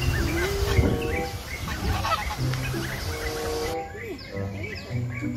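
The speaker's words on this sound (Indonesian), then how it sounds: "Wow, angsa." Several geese honk loudly and repeatedly, overlapping calls in a noisy flock close by.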